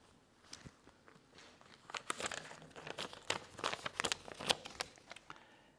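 A paper banknote is crumpled by hand during a church morning sermon: a close run of sharp crackles and crinkles that thickens midway, with no talking.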